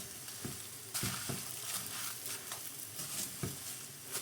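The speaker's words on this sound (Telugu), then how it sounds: "ఇట్లా అన్నిటినీ కూడా దోరగా అయ్యే వరకు ఫ్రై చేసుకోవాలన్నమాట, లో ఫ్లేమ్లో" Dried red chillies frying in a pan on a low flame, a soft, fairly quiet sizzle with a few sharp stirring scrapes and rattles spread across the stretch.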